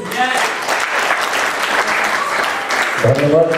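Audience applause at a Udichi New York cultural event's prize-giving, steady clapping throughout, loud and continuous, with a voice speaking over it toward the end.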